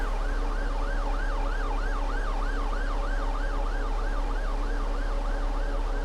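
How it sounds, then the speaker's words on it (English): In the Omsi 2 bus simulator, a passing ambulance's wailing siren sweeps up and down in regular cycles above a steady low drone of the bus engine, with no voices. "And it's an ambulance passing."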